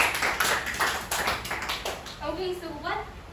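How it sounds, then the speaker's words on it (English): A class gives a round of applause to a student group after their science presentation, a brief patter of clapping and tapping at the start that fades as a teacher's voice carries on speaking. "Let us give group 1 a round of applause."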